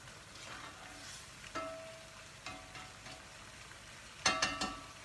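Carrots fry in vegetable oil in a pan, giving a quiet sizzle with a few soft clicks and stirring scrapes and a short burst of crackling near the end.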